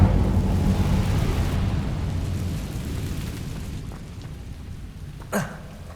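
An Incendio fire spell in Hogwarts Legacy, cast by a Slytherin player: a sustained roaring whoosh of flame that slowly fades, ending in a sharp flare near the end, with no talking.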